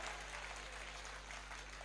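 Audience applause at a Kavi Sammelan poetry gathering during the Ayodhya Utsav, a faint, even wash of clapping heard from a distance over a steady low hum, lasting only a couple of seconds.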